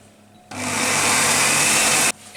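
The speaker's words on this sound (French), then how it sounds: "Et ensuite on va mixer 30 secondes à vitesse 6." Thermomix blending madeleine batter with three eggs at speed 6, a loud steady motor whir that starts abruptly, holds constant for about a second and a half, then cuts off.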